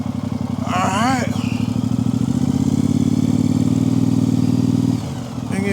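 A Triumph SpeedMaster motorcycle engine idles and putters steadily at low speed through a U-turn, a loud close low throbbing that drops off near the end, with someone talking over it at the start.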